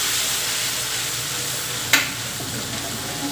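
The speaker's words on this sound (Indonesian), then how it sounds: "Kemudian masukkan bumbu halus, tumis hingga wangi ya teman-teman" Ground spice paste of shallots and garlic sizzles and fries steadily in a hot pan with lemongrass, bay leaves, lime leaves and chili, a broad continuous hiss broken by one brief sharp stirring scrape partway through.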